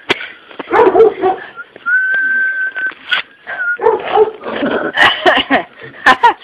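A dog whimpers, yips and barks in short bursts close by, with a thin whistling whine in between, mixed with people talking.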